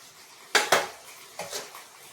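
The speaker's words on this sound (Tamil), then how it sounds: "லோ ஃப்ளேமில் வச்சு கட்டி இல்லாமல் இதே மாதிரி நல்லா வேகிற வரைக்கும் கிண்டிக்கிட்டே இருக்கணும்" A spoon stirs ground almond mixture in a pan over a low flame, producing a few faint, close metallic clinks and scrapes within about two seconds.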